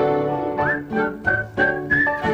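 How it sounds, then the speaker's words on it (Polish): A Polish television studio audience at a 1999 winter holiday show whistles in several bright, sliding bursts, loud and close, some rising and held before breaking off. "Każdy gwiżdże czym może."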